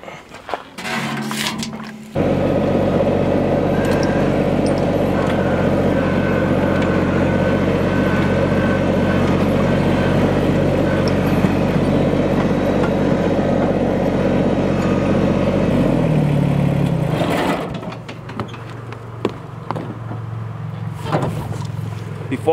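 A farm tractor engine runs steadily at close range, a loud continuous low rumble that starts abruptly after a short pause and then drops to a quieter idle near the end.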